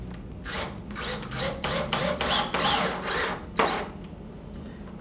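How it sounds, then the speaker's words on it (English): A screw is driven through a shutter bypass track frame and drywall into a wall stud, giving a series of raspy, grinding bursts over a few seconds before a brief final pulse, close and fairly quiet with no talking. "And now we can insert our screw"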